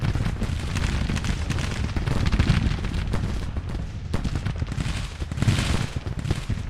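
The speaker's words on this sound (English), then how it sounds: "Cannons are helping out good." Cannons and massed musketry rumble through a Civil War battle in Grand Tactician, a dense, continuous crackle of gunfire with repeated deep booms layered over it, loud and sustained.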